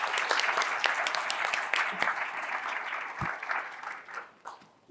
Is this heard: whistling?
no